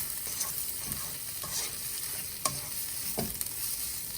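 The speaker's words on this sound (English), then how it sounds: "We're just going to give this a whisk. Let it all stir." Dragon chicken sizzles loudly in a hot pan as it is whisked and stirred, with a dense frying hiss and soft rhythmic scrapes and taps of the utensil.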